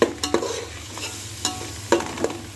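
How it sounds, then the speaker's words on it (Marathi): A paste of onion, coconut, ginger and garlic sautés in a pan for misal pav, a low sizzle punctuated by four or five distinct spatula scrapes and knocks, close and without speech. "चांगलं परतून घ्यायचं आहे कांदा चांगला परतून घेतलेला आहे"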